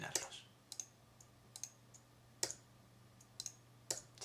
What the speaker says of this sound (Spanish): Simplemente haciendo un clic y la tecla de borrado.